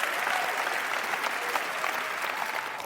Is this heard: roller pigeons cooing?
no